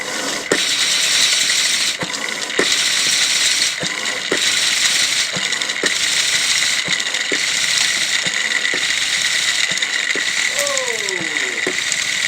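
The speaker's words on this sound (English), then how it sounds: "all I have to do now is pump those bellows and we'll be able to generate" Hand-pumped bellows drive a homemade generator, giving a steady rushing hiss broken by repeated sharp clicking strokes roughly every half second to second, with a brief whirring sweep near the end.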